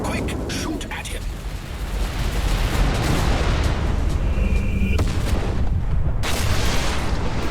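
Spaceship weapons in the space combat game Everspace 2 fire at an enemy craft, a dense, continuous roar of booming blasts and bursts that stays loud throughout, with a voice speaking over the barrage.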